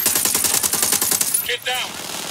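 Automatic gunfire rattles in rapid, evenly spaced bursts in Ghost Recon Wildlands, loud and close, breaking briefly before a single shot and a short ringing tail.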